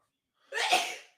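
A single sharp sneeze bursts out close and loud during a college football watch party for Colorado versus TCU, with no voices around it.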